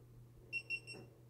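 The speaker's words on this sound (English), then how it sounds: "And then it beeps at you, and then it starts recording." Three short, high-pitched electronic beeps in quick succession from a GoPro Hero Session action camera starting to record, faint and close, over a quiet hum.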